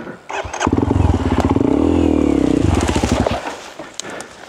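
A motorcycle on a muddy trail after a typhoon roars up loudly and close, holds a strong, rough engine note for about two seconds, then drops to a sputtering idle with some clatter.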